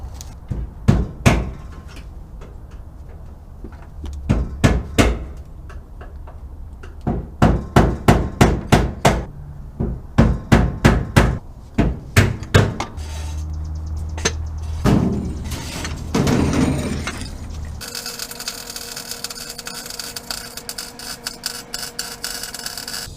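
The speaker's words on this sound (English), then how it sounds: "you want me to start taking that gas tank apart? Pop those rivets out." Hammer blows knock rivets out of a gas tank on a gasser project car, coming in loud, close bursts of sharp metallic strikes. A brief grinding-like wash follows near the end, and no one speaks.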